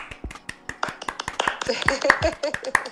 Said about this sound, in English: So I guess on 3, I'm going to clap.